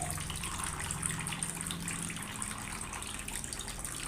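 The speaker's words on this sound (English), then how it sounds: "In all the taps you find water coming out at the same speed." Water gushes steadily from several household taps on a ground floor, all running at the same pressure, a continuous close-up rushing hiss with no talk.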